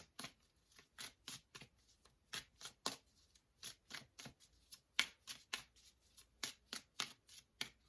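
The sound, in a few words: tarot cards being shuffled and drawn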